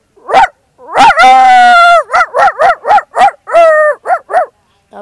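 A person imitates a dog barking with a rapid string of about ten loud, close barks and yips. One longer, drawn-out howling yelp comes near the start. No other talk is heard.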